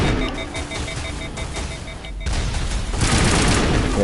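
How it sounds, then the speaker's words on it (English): Missiles fire and blast in the Mass Effect video game on Eden Prime, a dense burst of rapid booming gunfire that dips briefly, then surges louder and rougher. "Yeah, I gotta be careful with those missiles."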